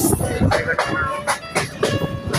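A passenger train on the Bhatiapara to Rajbari line in Bangladesh runs on its rails toward the station, with a rhythmic series of loud clattering bursts from the wheels over a rumbling base.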